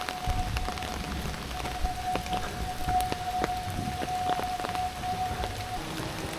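Steady rain falls on a wet day in Matsuyama, Japan near Dogo Onsen, a constant close patter of drops with faint scattered taps and no talking.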